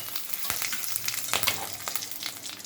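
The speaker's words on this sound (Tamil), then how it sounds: "எண்ணெய் காஞ்சிருச்சு சோம்பு கருவேப்பிலையும் போட்டுக்கிறோம்" Steady crackling sizzle of fennel seeds and curry leaves frying in hot oil, with a few sharper pops, close by and fairly quiet, no voices.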